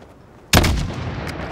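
A single loud, close sniper rifle shot at a target 600 meters away in Call of Duty: Modern Warfare on the Highway of Death mission, a sharp crack followed by a booming rolling echo that fades slowly.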